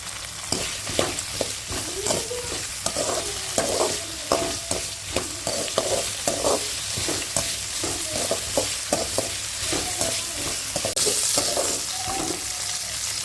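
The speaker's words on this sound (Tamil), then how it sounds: "கோவக்காய் ஒரு 2 நிமிஷம் இப்படி வணக்கிட்டு" Ivy gourd (kovakkai) sautéing in a pan, a constant loud sizzle with steady rhythmic spoon strokes scraping and tapping the pan throughout.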